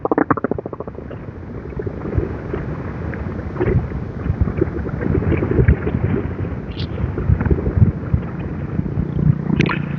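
Strong wind roars against the microphone during a motorbike ride along the JLS coastal road in Banten, a loud continuous rumbling buffet that swells and gusts, with no talking.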